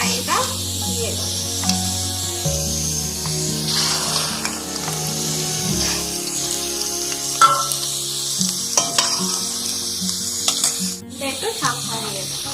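An egg fries in a wok with onion, giving a continuous loud sizzle with stirring and scraping noises, while steady tonal background sounds run underneath.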